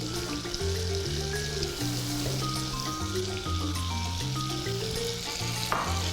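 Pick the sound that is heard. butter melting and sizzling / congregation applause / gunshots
butter melting and sizzling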